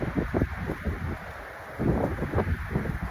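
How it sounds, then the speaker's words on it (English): Harsh wind buffets a microphone outdoors among pine trees, a steady low rumbling roar that rises and falls in gusts throughout. "you're just going to hear the harsh wind sound against the microphone"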